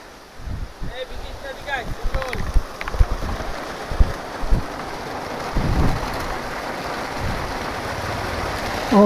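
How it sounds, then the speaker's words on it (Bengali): Heavy rain pours down during a solo motorcycle ride on a Yamaha MT15 V2, a steady broadband wash with wind buffeting the microphone and occasional louder gusts and splashes across the whole stretch. "এবার ভালো বৃষ্টি নেমে গেল।"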